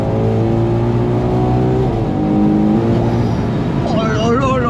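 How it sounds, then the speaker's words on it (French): Ferrari Purosangue 4x4 engine revving loudly and steadily, with rising and falling harmonic tones and a heavy low rumble, close and continuous, while voices speak briefly over it near the end. "t'as déjà vu un 4x4 qui fait ce bruit"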